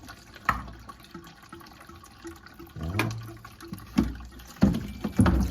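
Water drains from a toilet supply line during replacement of a Sloan supply stop valve, splashing and trickling into a small trash can with a few louder surges, close and unaccompanied by talk.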